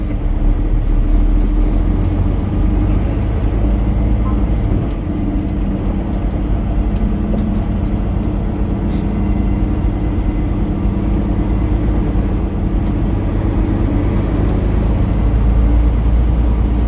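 A semi truck rumbles low and steady while being turned around in a parking lot, a continuous close engine drone with no talk over it.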